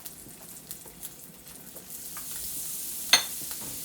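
Butter sizzles in a hot pan during a salmon Florentine pasta cook, a steady faint crackle with soft scattered pops and one sharper spit near the end, with no talking.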